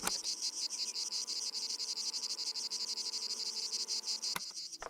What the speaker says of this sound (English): Like little cicadas or something?